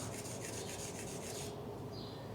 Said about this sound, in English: rub the spine of the knife through that notch, and it's gonna smooth it out